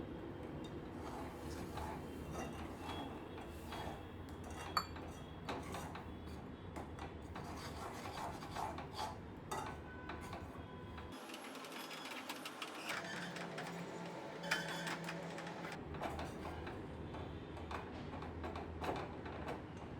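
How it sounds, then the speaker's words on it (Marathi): Modak flour stirred slowly into boiling water in a pot over a lowered gas flame: a steady, close scraping and rubbing that runs throughout, with a low rumble underneath that briefly drops away midway. "आता गॅस थोडासा कमी करून आपण हे पीठ त्यात हळूहळू मिक्स करूया"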